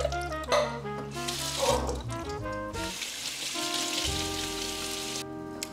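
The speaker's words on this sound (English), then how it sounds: "I always drain and rinse our beans though." Water runs from a kitchen tap as canned Great Northern beans are drained and rinsed, giving a steady splashing rush with some clattering against the sink. It is fairly quiet and continuous, with no talk.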